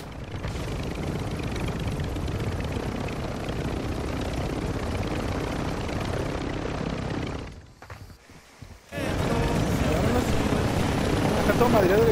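A damaged helicopter in a video game roars with a steady, loud rotor and engine wash that drops out briefly near the end and then returns at full strength.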